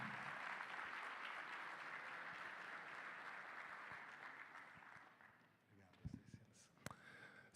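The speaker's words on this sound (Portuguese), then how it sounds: "Se você puder, aplauda ao Senhor." A church congregation applauds during a live worship service, producing a steady, broad roar of clapping that gradually softens, followed by a few isolated knocks and shuffling sounds near the end.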